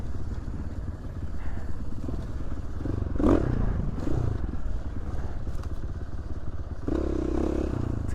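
A motorcycle rides fast through desert dust over rough chop, its engine a steady close rumble with clattering and scraping from the terrain and a brief thump partway through.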